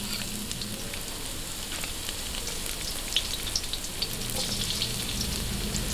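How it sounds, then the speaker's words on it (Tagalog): Oil sizzles steadily in a pan as sautéing begins for a Filipino chicken sotanghon soup, a dense continuous frying hiss with a few louder pops near the end, close and with no talking. "Ngayon, umpisahan na po natin ang paggigisa."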